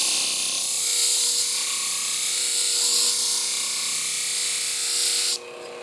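Shears ground against a spinning sharpening wheel give a steady, loud, continuous rasping hiss with a faint underlying hum, close up, stopping abruptly near the end.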